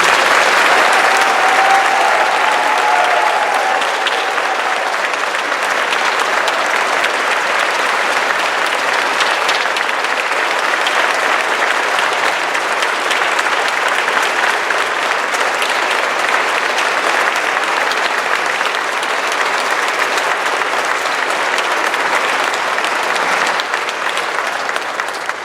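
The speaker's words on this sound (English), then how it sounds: "Please give Mike a round of applause." Sustained applause from an audience at the opening of a new field house, a dense steady clatter of clapping hands that holds loud and even for the full length with no speech over it.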